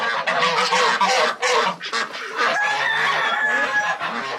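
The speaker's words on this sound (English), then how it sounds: "Billy the rooster is in there as well." A rooster and other fowl on a farm in cold weather clucking and squawking loudly nearby, overlapping calls in a busy, continuous chorus with a drawn-out crowing note partway through.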